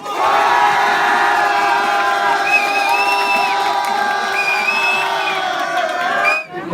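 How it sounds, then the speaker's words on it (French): A live rap battle audience in a French venue roars with sustained cheering, whoops and shouts for one contestant, a dense crowd wall holding steady for several seconds before dropping off abruptly at the end. "Pour Paul, faites du bruit"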